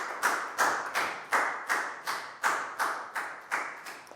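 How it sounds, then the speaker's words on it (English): A small classroom group of students clapping a short round of applause for a classmate in a Year 4 maths lesson, about ten even, sharp claps in steady rhythm, close and moderately loud with no talking. "So high five and a big round of applause for down"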